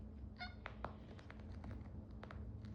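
A domestic cat gives a few short, squeaky meows close by in a quiet room, with faint household noise underneath and no talking.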